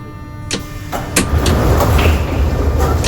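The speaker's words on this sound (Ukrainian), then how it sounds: "Обережно двері зачиняються." Metro train doors close in the Kyivmetromasters simulation game on line M2, a few sharp clunks and a sliding thud followed by a steady, loud rumble as the train starts moving.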